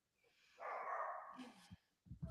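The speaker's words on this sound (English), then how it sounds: "dogs are angry" Dogs barking in bursts, faint and somewhat distant, a rough sustained yelp followed by sharper short barks toward the end, with no talk over them.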